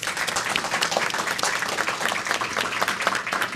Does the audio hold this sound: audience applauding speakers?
yes